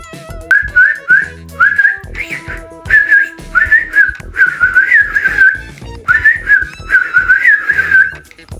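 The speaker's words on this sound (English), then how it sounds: "It's the robin. Sometimes there's a robin redbreast." A robin sings a run of bright, clear whistled phrases mixed with short tweets, repeating in quick bursts with brief pauses, close and fairly loud.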